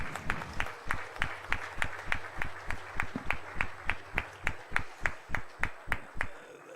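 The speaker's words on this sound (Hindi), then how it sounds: "सर काइंडली जोरदार तालियां हो जाएं सभी संस्थाओं के तरफ से" Rhythmic, evenly paced clapping fills a felicitation ceremony hall, steady beats repeating roughly every third of a second throughout with no talk over it.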